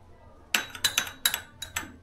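A spoon clinks against a dish while soy sauce is mixed for corn Manchurian, making about six sharp metallic taps in an uneven rhythm, close and clear against a quiet background.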